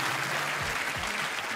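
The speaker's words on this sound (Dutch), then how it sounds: "maak gewoon applaus voor de beide Rubens." A live audience at an improv comedy show applauds two performers named Ruben in a steady, dense wash of clapping from a crowd that holds evenly through the clip.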